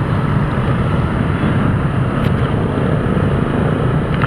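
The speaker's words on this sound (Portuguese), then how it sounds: "É moto, moleque." Motorcycle engines rumble steadily during a group motorcycle ride on the road to Serra Dona Francisca in Brazil, with a loud, continuous low drone and rushing wind noise throughout.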